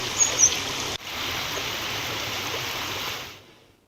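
A rain-swollen stream at Appireddyguda near Shadnagar in Mahabubnagar rushes with a loud, steady roar after heavy rain, briefly cut off early on and then fading out at the end.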